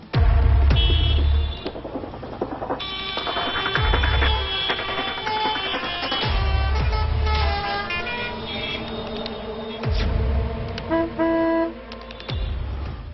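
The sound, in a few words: busy road traffic with horns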